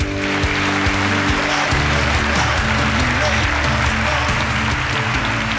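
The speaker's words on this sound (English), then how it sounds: "can we give them a round of applause?" A crowd at an African STEM challenge event applauds steadily, dense clapping filling the room throughout, with a voice briefly audible over it.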